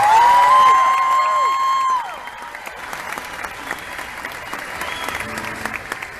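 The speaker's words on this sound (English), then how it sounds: "How about a big round of applause for my band up here" A crowd at a country music concert applauds and cheers for the band, opening with a sustained held tone and loud whoops, then settling into scattered clapping and shouts for several seconds.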